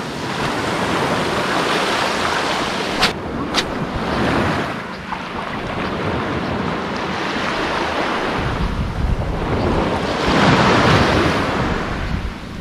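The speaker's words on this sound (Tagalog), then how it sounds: "Malakas ng alon ha." Heavy surf roars steadily with wind buffeting the microphone, waves surging and crashing loud and close throughout.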